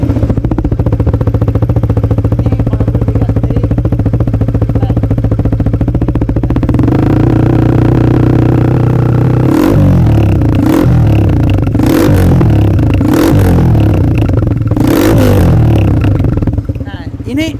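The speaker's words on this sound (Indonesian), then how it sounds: "ini suara knalpot tapi mesinnya udah beda ya" A custom Honda CS1 motorcycle with a swapped 150cc engine idles loudly through its exhaust, then gets several sharp throttle blips that rise and fall in quick bursts, up close.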